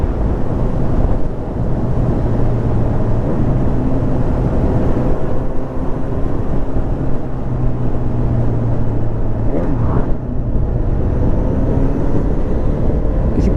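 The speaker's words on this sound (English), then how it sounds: "on the downshifts I'm still blipping" A Honda Hornet 1000SP's engine drones steadily under wind rush while riding, with brief rev blips on downshifts breaking through the steady hum.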